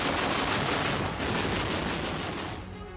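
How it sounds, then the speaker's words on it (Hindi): Rapid bursts of gunfire in Mariupol from fighting between Ukrainian and Russian soldiers, fast regular shots packed into a dense, loud volley that thins out at the end. "यूक्रेन और रूसी सैनिक एक दूसरे पर ताबड़तोड़ गोलियां दाग रहे हैं।"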